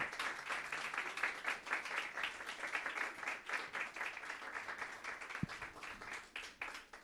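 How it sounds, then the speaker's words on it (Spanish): Church congregation claps during a Sunday sermon, a faint, distant, sustained spatter of many hands with an uneven, fluttering rhythm and one sharp knock partway through. "Denle un aplauso al Señor."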